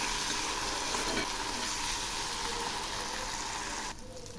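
Spices with poppy seed paste fry in a pan for a vegetarian lauki dish, a loud, steady, close sizzle that carries on without a break and drops off abruptly near the end.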